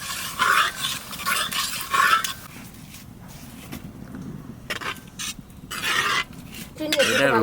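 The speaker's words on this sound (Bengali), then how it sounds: "ডালটা ঢেলে দাও।" Lentils poured into a cooking pot for dal khichdi, with scraping, stirring and light clinks of utensils against metal in a close, busy kitchen, with quiet background voices.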